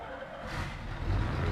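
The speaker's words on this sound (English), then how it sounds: "We have engine sounds." Truck engine in Euro Truck Simulator 2 on a UK map, a steady low rumble that swells slightly louder toward the end, heard alone.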